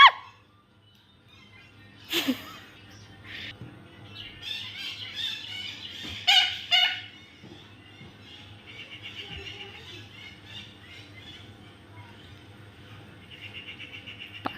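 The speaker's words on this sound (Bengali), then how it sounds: "পাখির ডাক শুনে মিঠু কিরকম করলো" A pet parrot gives a few sharp, loud squawks near the microphone, followed by softer chirps and chatter against a quiet background.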